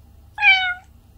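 A man under hypnosis imitates a cat with a single drawn-out meow of about half a second, loud and close against a quiet background.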